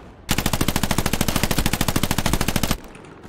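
Machine gun in a WWII video game firing one long sustained burst of rapid, evenly spaced shots at close range, loud and alone, then cutting off into quiet background.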